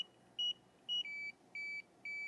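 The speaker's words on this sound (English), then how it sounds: "So it beeped 3 times and now it's going to go on about its business." A gas detector in a confined-space training setup chirps a series of five short, clean electronic beeps in a steady rhythm during a pump test, close and clear over a faint background hiss.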